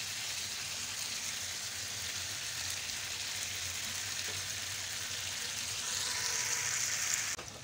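Beef ginger karahi frying in a wok, a steady, dense sizzle like light rain that continues evenly throughout, slightly louder near the end before cutting off, with no talking.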